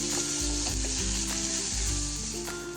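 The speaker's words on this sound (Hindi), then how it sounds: "तो इसको भी हम अच्छे से मिक्स कर लेंगे।" Onion, tomato and green chillies are stirred in a hot pan, giving loud sizzling frying with repeated low scraping strokes of the spoon, close and continuous, with no talk.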